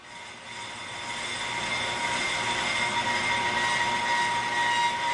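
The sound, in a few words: brake lathe cutting bit touching brake rotor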